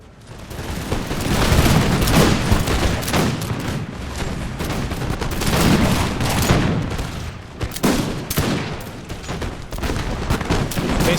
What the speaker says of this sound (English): it's just a battle all along the line, with enemy infantry charging and the Minutemen firing